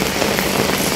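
Heavy monsoon rain pours down hard, a dense, loud, unbroken roar of drops hitting the surfaces close by.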